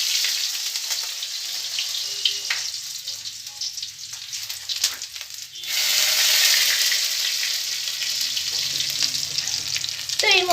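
Dried red chillies and dried garlic frying in hot oil, a dense, close crackling sizzle with stirring clinks that briefly thins, then swells back louder and steady.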